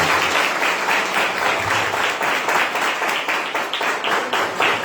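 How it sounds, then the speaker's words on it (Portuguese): A church congregation claps steadily for several seconds, a dense, close wash of hands that swells slightly and then thins toward the end, with no voices standing out. "Você pode aplaudir o Senhor, né?"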